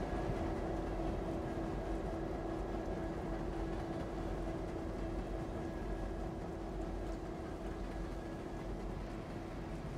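A CSX SD80MAC locomotive hauls a coal train on the Norfolk Southern Coal District in Train Simulator 2015, with a continuous low diesel drone and steady rail rumble at an even level throughout.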